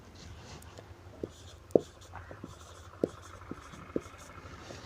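Marker or chalk strokes writing numbers on a classroom board: a few sharp taps and short scratching strokes, quiet and spaced out over low room hum, with no speech.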